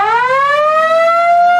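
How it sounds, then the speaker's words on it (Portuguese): A riot siren from a video game wails loudly and steadily, its tone sweeping upward and then holding high, sounding alone with no talk. "Sirene de tumulto,"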